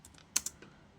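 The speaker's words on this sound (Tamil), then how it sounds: "ஸோ இந்த மாதிரி நான் டைப் பண்ணியிருக்கேன்" Keystrokes on a computer keyboard, a few light clicks with a pair of sharper taps near the middle, close and alone in a quiet room.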